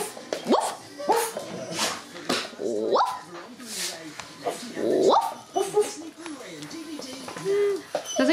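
A puppy barks and yips repeatedly in short bursts, close and loud, with some whimpering between barks and people talking alongside.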